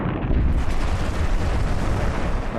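A volcanic eruption, in the manner of Krakatoa, gives a continuous deep roaring rumble that is loud and dense, with no separate blasts and no voices.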